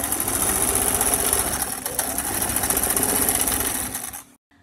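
A sewing machine stitches a jacket in a fast, steady mechanical whir close by, running continuously before stopping abruptly at the end.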